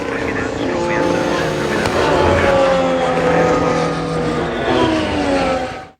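A car engine in the Ala Mobile racing video game, a steady loud droning whine with shifting pitch as the vehicle drives, with no break until it fades out abruptly at the end.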